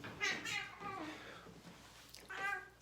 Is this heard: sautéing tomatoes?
no